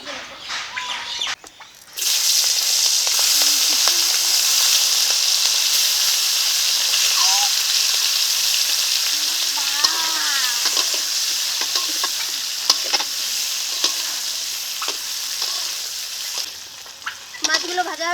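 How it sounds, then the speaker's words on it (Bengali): Prawns hitting hot oil for a prawn malai curry, a loud, constant sizzle that starts abruptly after a quiet moment and continues with stirring clinks and a voice speaking occasionally under it. "তেলটা গরম হয়ে গেছে এখন চিংড়ি মাছগুলো"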